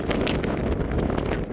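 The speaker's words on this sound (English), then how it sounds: "Still a bit breezy, which is a good thing." Breezy wind buffets a microphone on a woodland walk near Beinn a' Bhùird in Scotland's Cairngorms, making steady low rumbling and gusty fluttering close to the mic throughout.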